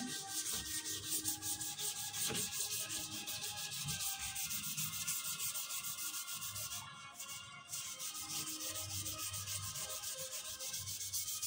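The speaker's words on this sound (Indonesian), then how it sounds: "Lalu kita gunakan amplas 400 kembali untuk memulai pengamplasan." A yellowed car headlight lens is sanded by hand with 400-grit sandpaper, giving a continuous rhythmic scratchy rubbing, close and fairly quiet, with one brief pause partway through.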